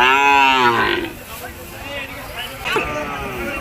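Calves low loudly at the Nilphamari cattle market, one long moo up close followed by fainter, shorter calls, with people talking in the background.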